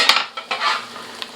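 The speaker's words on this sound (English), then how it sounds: "I'm putting my potatoes in." Potatoes tumbling into a pot of chicken corn chowder, a few soft knocks and clatters over a steady low sizzle and stirring noise, close up with no talking.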